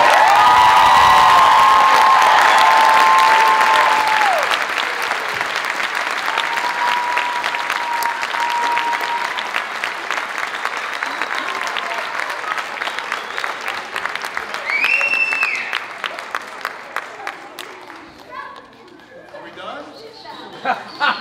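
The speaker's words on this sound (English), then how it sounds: "Can we give them one more round of applause?" A theatre audience applauds and cheers loudly for the cast of The Claw, the clapping dense at first, then thinning and fading toward the end, with voices and chatter mixed in.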